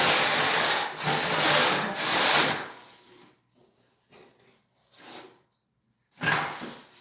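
A bit shaping wood in place of a rasp, working late, makes coarse, broadband rasping bursts close by, three strong strokes and then fainter, scattered scrapes separated by near silence, with one last sharp burst; no voices.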